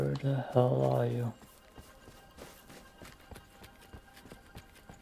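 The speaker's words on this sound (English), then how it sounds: "I heard his footsteps too" Footsteps of an enemy player in the PvPvE game Hawked, soft rhythmic thuds pattering at a distance after a short burst of speech.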